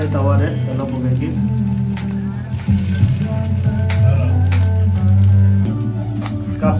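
Paneer coated in cornflour fries in oil on a tawa, a loud, continuous crackling sizzle over a steady low hum.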